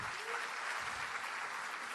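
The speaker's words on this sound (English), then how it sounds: "Ladies and gentlemen, please give Miss Angela Lemon Flowers another huge round of applause" A large audience at a school district hiring event applauds continuously, a fairly distant, even wash of clapping with no pauses.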